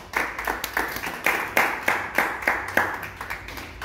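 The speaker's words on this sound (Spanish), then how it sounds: "¿Cuánto le da un aplauso al Señor?" A small church congregation at a Tuesday prayer service claps for the Lord in uneven, distinct hand claps that come in a loose rhythm, fairly close and moderately loud.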